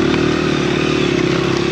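A dirt bike pushes through hard, icy snow, its engine droning loud and steady at close range with a buzzing, sustained note and no voices over it.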